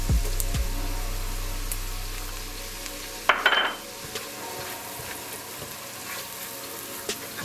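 Minced garlic cooks in a pan for mushroom risotto, a soft continuous sizzle close by, broken once by a brief louder burst of spatter and a few light utensil clinks.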